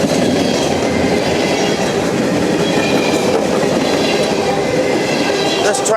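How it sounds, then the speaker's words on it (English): Freight train pulled by four locomotives rolling past at close range in Madisonville, Kentucky, with a loud, steady roar of wheels and a rhythmic clickety-clack throughout, plus a faint high squeal near the end. "Running with 4 locomotives today."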